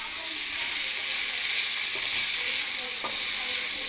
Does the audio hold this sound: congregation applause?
no